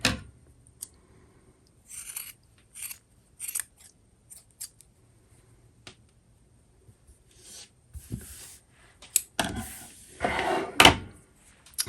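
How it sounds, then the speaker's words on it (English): Scissors snip excess yarn off crochet tassels in a quiet room, a series of short, crisp cuts spaced irregularly, with a denser flurry of snipping and handling rustle near the end, close and without speech. "then you just want to trim off all of that excess"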